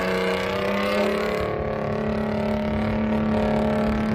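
A pulling tractor at a tractor pull holds a loud, sustained engine roar with a steady droning pitch, close and continuous throughout.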